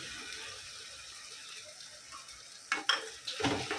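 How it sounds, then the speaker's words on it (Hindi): Tomato puree goes into ginger and garlic frying in a pan, with a steady soft sizzle and then two sharp bursts of louder spattering as it hits the hot oil. "अभी ये टमाटर प्यूरी डालेंगे।"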